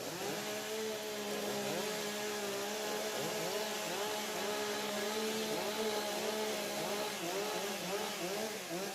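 Several STIHL chainsaws rev and idle together during warm-up at a timbersports competition, a steady overlapping engine drone with rising and falling throttle sweeps throughout, loud and continuous.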